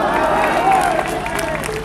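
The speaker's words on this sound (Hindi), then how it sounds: "तब तक आप लोग ताली बजाते रहिए" Crowd at an outdoor political gathering clapping and cheering steadily throughout, a dense continuous wash of applause with voices mixed in.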